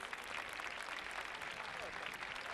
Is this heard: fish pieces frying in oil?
no